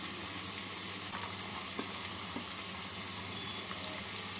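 Carrot, cauliflower and beans frying with potato in a pan for vegetable dalia pulao, a constant close hiss of sizzling oil with a few faint stir clicks, no voices.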